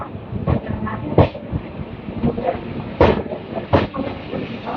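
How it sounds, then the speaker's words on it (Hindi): A Karnataka Express train pulls into platform 2 at Jhansi station: a steady rumble of rolling wagons with repeated metallic clanks and knocks, loud and close, and no voices. "कर्नाटक एक्सप्रेस आ रही है 2 नंबर पे।"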